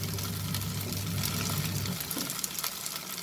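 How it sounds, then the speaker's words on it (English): Sooji cheela, a semolina vegetable pancake, sizzles steadily in a pan over a high flame, a close, even crackling fry with a low hum underneath that drops away partway through. "After a minute, we are going to turn the cheela and cook on the other side"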